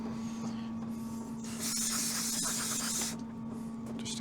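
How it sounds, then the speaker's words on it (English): Carburettor cleaner sprayed from an aerosol can into the carburettor of a Yamaha XJ900F motorcycle, a steady hissing burst of about a second and a half, close and fairly loud over a quiet workshop background with a faint steady hum. "Some carb spray."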